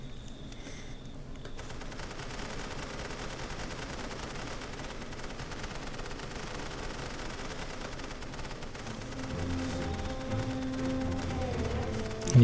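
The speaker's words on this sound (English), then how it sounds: "the machine gun on the hill just devastating these infantry squads" A machine gun in The Great War: Western Front rakes advancing infantry, a steady, fairly faint rattle of rapid fire running the whole time under battlefield ambience, growing slightly louder near the end.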